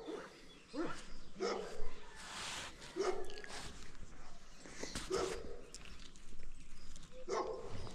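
A dog lets out a series of yips and whimpering barks at close range, repeated every second or so over nearly eight seconds, with a faint bird in the background and some voices mixed in.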